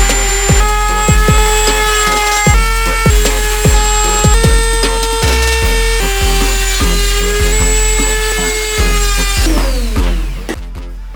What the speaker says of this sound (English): I took my wooden router and started trimming off. And for the small parts, I use my Dremel.